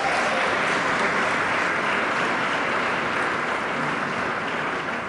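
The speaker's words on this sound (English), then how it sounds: "Let's give a round of applause to labor." Dense, even applause from an audience filling a legislative chamber, continuous clapping throughout with no speech over it.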